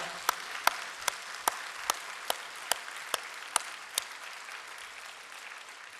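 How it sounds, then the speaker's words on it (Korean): A church congregation applauds during a worship service, a broad steady patter of many hands with a rhythm of sharp, evenly spaced claps standing out on top, gradually thinning out. "하나님께 영광의 박수 올려드리십시다"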